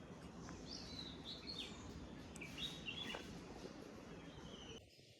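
Morning birdsong in a Konkan village: scattered high chirps and short tweets drift over a steady outdoor hiss, faint and somewhat distant, fading out at the very end.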